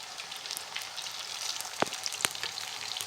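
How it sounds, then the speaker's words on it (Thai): Steady sizzling of Thai banana-blossom fish cakes frying in hot oil, a constant crackling hiss with a couple of brief sharp pops. "นี่ครับทอดง่ายไม่ติดกระทะเลยนะครับ"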